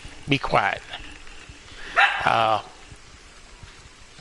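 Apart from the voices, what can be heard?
dog barking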